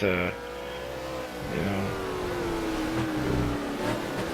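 Ford Falcon V8 Supercar engine in Project CARS on the Nordschleife, a steady loud drone with gear-change dips near the start and around 1.5 seconds before the revs climb again and hold.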